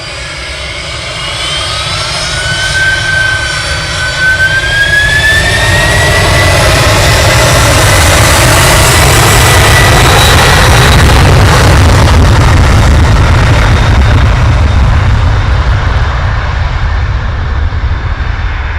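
A jet airliner takes off at Manchester Airport, its engines building from a rising whine into a loud, sustained, close roar that fills the whole stretch.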